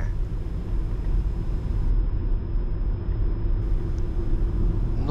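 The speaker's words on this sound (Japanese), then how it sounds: "街中のね、ちょっとしたタイトなコーナーをね走ってみました" A Toyota Voxy Hybrid ZS Kirameki minivan drives through tight city corners, giving a steady, low interior road rumble and muted tire noise that stays even and close throughout, with no voices.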